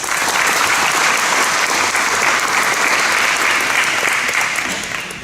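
Loud, sustained applause fills a school awards ceremony as the audience claps for students, a dense, even wash of many hands that tapers slightly at the end.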